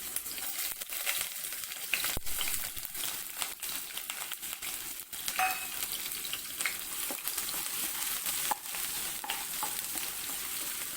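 Thinly sliced rounds of garlic fry in oil over a very low flame for garlic chicken, giving a steady, close sizzle with faint crackles and a few soft scraping clicks throughout.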